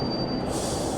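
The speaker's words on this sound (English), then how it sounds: "Your train is here. It'll be leaving soon." Train ambience in the video game Torn Away, a short steady rumble of rolling carriages with a faint high whine, no voices.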